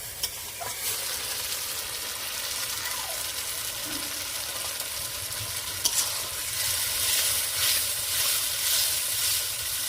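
A hot pan of fish curry hisses and sizzles steadily after water is poured in, a continuous bubbling sputter with faint stirring knocks, rising slightly toward the end.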